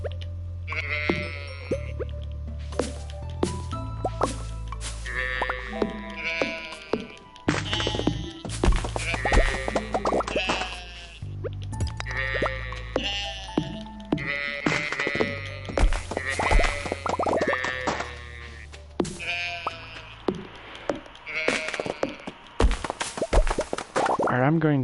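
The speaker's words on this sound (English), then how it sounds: "Although the sheep sounds are very annoying." Repeated sheep bleats from the farming game Stardew Valley, overlapping in a busy chorus throughout, over a steady low background of game music or ambience.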